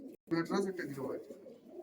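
A cross-bred Giribaz pigeon, likely a hen about to lay eggs, gives a short soft coo while held in the hand, close and brief after a moment of silence.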